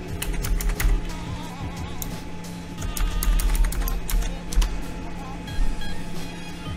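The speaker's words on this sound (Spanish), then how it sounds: "Y ahora es cuando introducimos la contraseña." Computer keyboard keys clicking in quick irregular bursts as a password is entered, close and fairly soft over a low steady hum.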